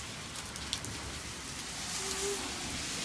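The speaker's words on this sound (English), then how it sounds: "The rain's right here?" Rain falls steadily in a continuous soft hiss of drops striking surfaces nearby, growing a little louder toward the end, with no talk over it.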